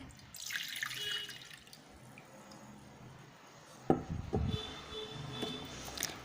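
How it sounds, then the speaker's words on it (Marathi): Water from boiled soybeans poured off and draining into a sink, a faint trickle at first, then a louder splashing gush and drips near the end, no voices. "यानंतर हे पाणी फेकून द्यायचे"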